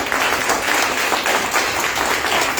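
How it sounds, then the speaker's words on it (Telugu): A church congregation at a Sunday service applauds loudly and continuously, a dense wash of many hands clapping together without a break. "ఈ చప్పట్లు ఎలా ఉన్నాయంటే ఇదే రాయగడ పాసింజర్ లాగా ఉన్నాయి"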